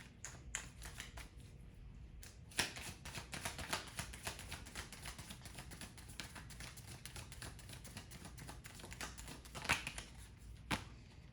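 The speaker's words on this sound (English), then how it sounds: "Let me go ahead and pull some advice cards for you." Cards being shuffled and pulled from a deck of advice cards: a steady soft riffling patter with sharper snaps and taps at intervals, close and quiet, with no talking.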